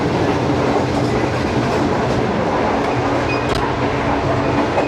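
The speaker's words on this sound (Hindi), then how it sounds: "दोनों ही ट्रेन टॉप स्पीड पे थी।" Train noise from the 28DN Shalimar Express running at top speed between Multan and Karachi, a loud steady rumble of wheels and carriages with faint clatter throughout, no talking.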